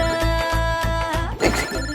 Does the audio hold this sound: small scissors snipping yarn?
no